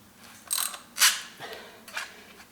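A filter wrench grips the oil filter on a Harley-Davidson Dyna with three separate ratcheting scrapes of metal, the middle one loudest, close by and without speech.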